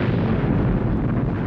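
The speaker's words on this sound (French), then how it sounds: "Ah, et il y a aussi des grosses explosions." A big explosion in a Mad Max video game roars as a dense, sustained blast of rumbling noise, loud and continuous without talk over it.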